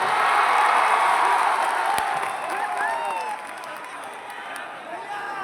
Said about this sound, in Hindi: एगो ताली बजा के आशीर्वाद देना जाए।